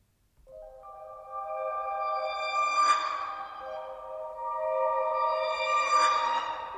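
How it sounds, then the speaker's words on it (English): Two swelling reversed piano one-shot tones rise slowly to an abrupt cutoff, washed in lush vintage reverb, each swell lasting about three seconds. "from this piano one shot, reversed it, played with the envelope, vintage verb"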